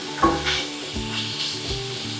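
Food sizzles in a non-stick pan while being stirred, a close steady fry broken by several soft scraping knocks of the utensil spaced about half a second apart, with no voices.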